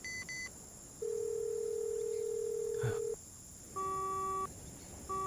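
Telephone line tones after dialing: short touch-tone bursts, then a long steady call tone, followed by repeated two-tone beeps like a busy or disconnect signal, all fairly quiet and without speech.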